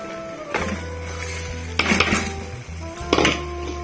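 Rice stirred into browned fried onions in a pan, with a spoon scraping and clinking against the metal in a few distinct bursts over a steady low sizzle, close and moderately loud.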